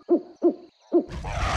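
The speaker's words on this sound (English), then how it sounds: "We hoot and roar when we are mad." A forest animal from the mountains of Africa gives three evenly spaced, close, resonant hoots, followed by a loud, rough, roar-like burst that fills the end.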